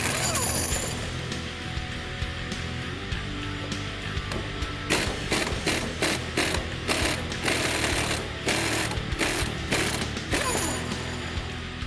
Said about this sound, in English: Remove our compressor from our factory spring.